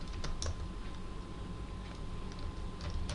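Quiet clicking of a computer keyboard as a URL is entered, with scattered soft keystrokes over a low background hum.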